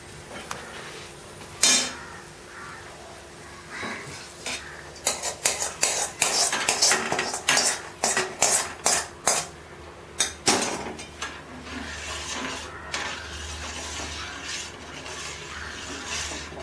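Fried cashews and raisins tipped into a pan of wheat payasam, with a burst of metallic clanks and scraping spoon strikes against the vessel, loud and close, settling into quieter stirring.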